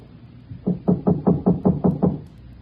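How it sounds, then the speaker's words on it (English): Seven evenly spaced knocks on a house door at an isolated home on a back road, firm and fairly close, in a steady quick rhythm with no talk. "But nobody answered my knock."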